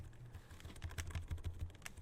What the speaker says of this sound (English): the spacebar is one of my favorite sounds on any keyboard.